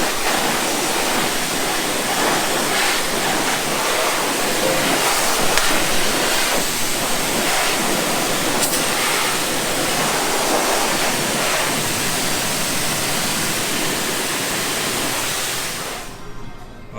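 A water spray blasts dirt off farm equipment, a loud, continuous hissing rush that holds steady for the whole stretch before cutting off abruptly near the end.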